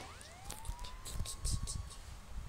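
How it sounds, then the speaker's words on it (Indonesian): An ambulance siren in the driving game Bus Simulator Indonesia wails with a rising then steady tone for a couple of seconds, moderately loud over engine rumble and short clattering game noises. "Awas ya, ada ambulan."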